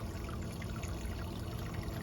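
Water pours from a black pump hose into an aquaponic tank, making a steady, close splashing trickle with no pause or talk.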